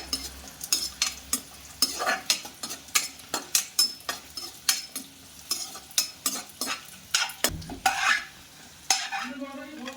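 Nuts frying in ghee for fried rice, with a constant sizzle and a rapid, rhythmic clatter of a utensil stirring and scraping the pan close by.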